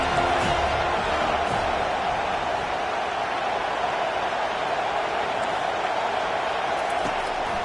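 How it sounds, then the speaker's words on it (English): A stadium crowd roars steadily at a football game on third down, a dense, sustained wall of noise that holds loud throughout. "Decibels rising as the crowd gets behind this defense on third down."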